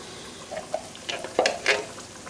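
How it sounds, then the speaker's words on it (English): Vegetables stirred into a pot of hamburger vegetable soup, several close scraping and wet clinking strokes with a faint sizzle underneath, no talk. "I'm going to go ahead and add my vegetables to it."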